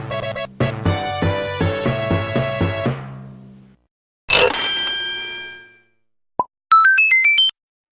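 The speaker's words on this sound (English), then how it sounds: "they play a really neat sound or jingle when you get them" Video game extra life jingle: a bright chiptune melody of quick stepped notes, followed by a struck chime tone, a short blip and a rising run of high pure tones, all loud and clear with no talk.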